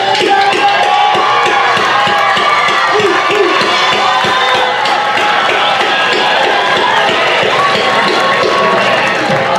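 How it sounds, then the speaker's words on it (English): A high school graduation crowd cheers loudly, shouting graduates' names over continuous applause, a dense roar of voices and clapping that stays loud from start to finish. "please recognize them by shouting out their name and giving them a big applause"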